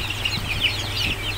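Month-old chicks of several breeds peck and feed on cracked eggs, with soft, steady chick cheeps and clucking close by over a low background hum and no talking.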